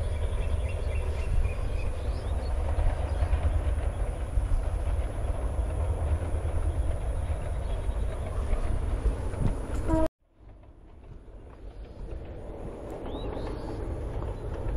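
A morning train bound for Dhaka rumbles loudly and steadily past a village, its broad roar and wheel clatter holding for about ten seconds before cutting off abruptly, leaving quieter outdoor ambience behind.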